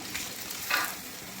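Garlic sautéing in a wok-style pan for a bottle gourd and shrimp dish, a steady close sizzle and crackle with a brief louder flare of frying noise midway.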